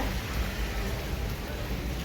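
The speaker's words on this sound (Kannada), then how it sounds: "ನೋಡಿ ಹೆಂಗ್ ಬರ್ತಾ ಇದೆ ಮಳೆ ನಾನ್ ಸ್ಟಾಪು" Dense, steady downpour, a continuous broadband hiss of heavy rain falling with no pauses, fairly close and loud throughout.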